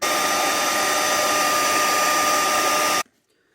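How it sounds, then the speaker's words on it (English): A hair dryer blows with a loud, steady whooshing whine for about three seconds, then cuts off abruptly into near silence. "I'm going to heat everything up with the hairdryer"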